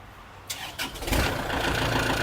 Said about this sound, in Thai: เครื่องสตาร์ทติดง่ายนะครับ